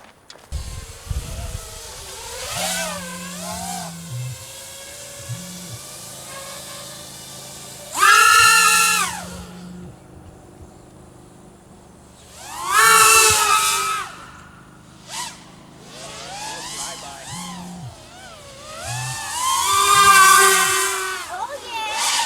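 An FPV drone on an RMRC Valorem frame flies at full power outdoors, its motors surging in loud, whining bursts and fading between passes, with voices talking in the background.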